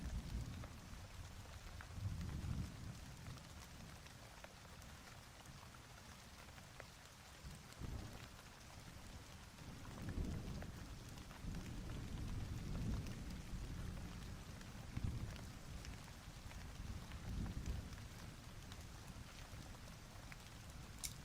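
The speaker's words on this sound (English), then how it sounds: "Whenever you guys hear the rain sound effects on stream" Rain sound effects play on a livestream as steady, soft rainfall with a constant hiss and low rumbling swells like distant thunder, faint and continuous with no voices.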